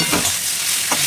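Spiny gourd (kakrol) slices frying in a pan, a close, steady hissing sizzle with two brief louder swells as the pieces are stirred or turned.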